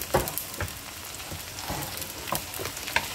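Okra fries with onions in a pan over high heat, a continuous close sizzle broken by intermittent scraping and stirring clatters, with no voices.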